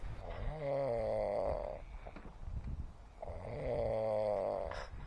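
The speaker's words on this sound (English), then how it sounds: "They took a recording of me laying out here starfished and snoring" A person lying out in the sun snores in two long, rasping breaths with a gurgling rumble, close and steady, separated by a short quiet gap with no talking.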